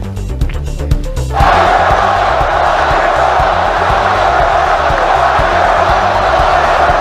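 A big crowd at a campaign rally bursts into a loud, sustained roar of cheering and shouting that swells after a brief opening and stays at full volume throughout.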